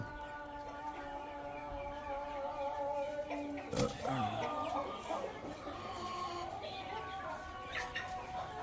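A hen clucks and squawks in short bursts, with one sharp loud outburst midway, against a busy farmyard background.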